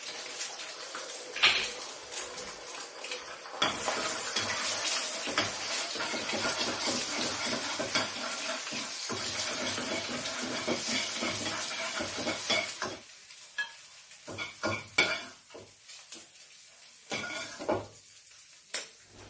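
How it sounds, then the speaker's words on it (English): Three eggs frying in a pan alongside king prawns, a steady loud hiss and crackle of hot oil with utensil scrapes and clinks, then quieter intermittent sizzling bursts near the end. "Now I'm gonna fry my eggs."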